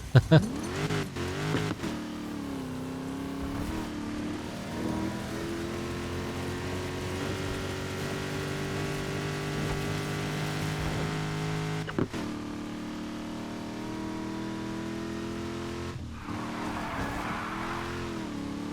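Dodge Challenger SRT8 2014 muscle car engine in a Need for Speed Heat circuit race, a steady loud drone throughout with brief shifts and a dip near the twelve-second mark, a voice talking faintly underneath.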